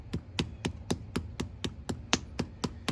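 A blacksmith's hammer strikes hot metal on a flat anvil at Tuckerton Seaport, about a dozen sharp, evenly spaced ringing blows close up, steady in rhythm with no talk between them.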